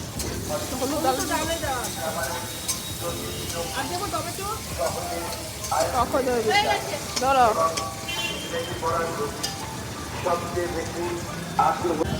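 Chopped onion and tomato frying for lentil dal at a rooftop family picnic hiss and sizzle continuously with occasional stirring scrapes, while people talk over the cooking throughout.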